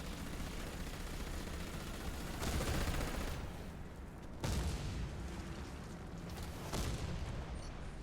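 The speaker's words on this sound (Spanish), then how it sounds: "Volvemos a disparar." Rapid bursts of gunfire from the shooter game Warface during a PVE mission against a drone, dense and sustained throughout with a few louder volleys standing out.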